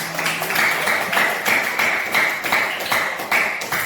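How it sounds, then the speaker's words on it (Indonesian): Rhythmic group clapping in a classroom, steady beats from several people close by, continuing evenly throughout. "Beri tepuk tangan."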